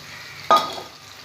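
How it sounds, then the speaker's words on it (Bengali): Chicken frying in a pan with ginger and garlic paste: a single short scrape and sizzle burst as it is stirred, then a quieter hiss over low background noise. "এটা দিয়েও ভালো করে কষে নেব।"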